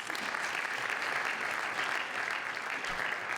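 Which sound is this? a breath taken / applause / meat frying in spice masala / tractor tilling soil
applause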